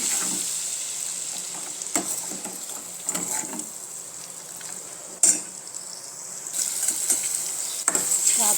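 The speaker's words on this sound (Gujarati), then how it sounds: "મસાલા સરસ રીતે સતળાઈ જાય એટલે આપણે તેની સાથે ગ્રેવી ઉમેરી દઈશું. સરસ રીતે મિક્સ કરી લઈશું." Spices frying in hot oil sizzle steadily as gravy is stirred in, with occasional scrapes and clinks of a spoon against the pan, close and continuous.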